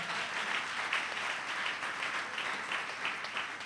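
A church congregation applauding in praise of the Lord, a dense, steady wash of clapping from many hands that holds evenly throughout.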